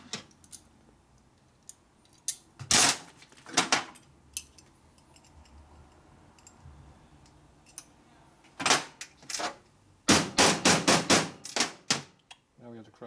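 A steel key hammered into a 1965 Harley-Davidson Panhead four-speed transmission during a rebuild: sharp, close metallic strikes, a few spaced single blows and then a quick run of about six hits in a quiet workshop.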